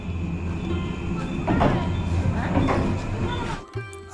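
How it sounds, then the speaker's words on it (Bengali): A Diamond Harbour to Sealdah local train rumbles steadily into the station with rail noise and a rising clatter, then the sound abruptly drops near the end, with muffled voices in the background. "আমাদের ট্রেন এসে গেছে ডায়মন্ড থেকে শিয়ালদা যাওয়া"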